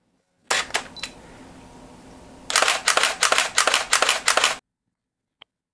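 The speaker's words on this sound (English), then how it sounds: "let's have a listen at that shutter" A Sony A100 DSLR shutter fires a few quick clicks, pauses briefly, then rattles off a rapid burst of about a dozen sharp, close snaps before stopping as the buffer fills.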